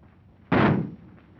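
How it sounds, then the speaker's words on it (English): A single gunshot from a policeman's gun, one sharp loud crack that rings briefly and fades within half a second against a quiet room. "That shot got him."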